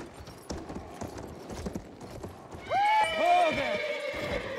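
Horse hooves clip-clopping at a gallop in the Battlefield 1 game, then a loud, close whinny with a rising-falling neigh joining the hoofbeats partway through.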